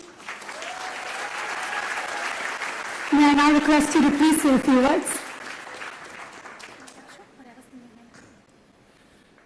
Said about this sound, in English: Ladies and gentlemen, a round of applause once again